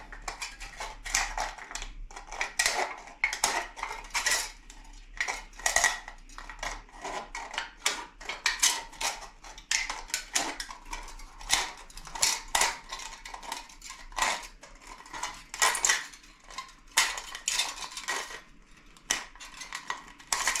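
A drink can being cut around a marked line to make a DIY alcohol camping stove, producing a steady run of close, sharp metallic clicks and scraping snips with no talking.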